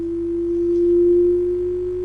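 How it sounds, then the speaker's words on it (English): A steady pure sine tone, loud and alone, holding nearly level with a slight upward drift in a Shepard tone loop built in Ableton Live. "we've got the sine wave going up, and then when it reaches the end, 440 Hertz, boom, snaps back to 220"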